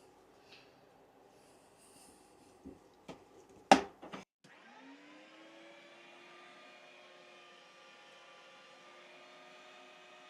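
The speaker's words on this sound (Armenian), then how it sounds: "պամիդորն էլ արդեն մսաղացով անցկացրեցինք" An electric meat grinder mincing tomatoes starts up after a few knocks and clatters, then runs with a steady whining motor hum that holds for several seconds.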